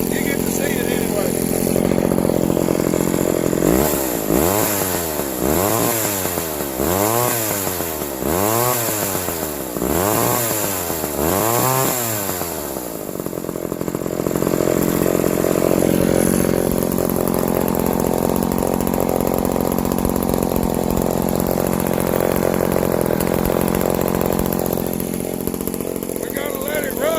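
A McCulloch S550 chainsaw engine fires and runs loudly at close range, revving in about six rising and falling surges before settling into a steadier rough idle, with voices talking over it.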